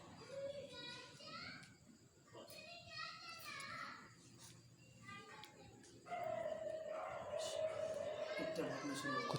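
Dogs bark on and on outside a house at night, fairly distant and mixed with children's voices and other talk, growing louder toward the end.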